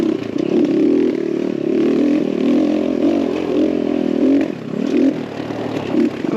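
An X Pro Templar 250cc dirt bike, nearly stock apart from a carb adjustment, rides a trail with a steady close engine drone that rises and dips as the throttle changes, with brief surges near the end.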